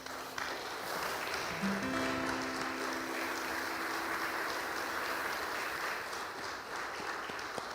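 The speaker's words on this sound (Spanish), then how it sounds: "Dale un aplauso a tu Dios" Applause for God in a church congregation, a continuous wash of clapping held at moderate level for several seconds, with a faint sustained tone briefly sounding beneath it.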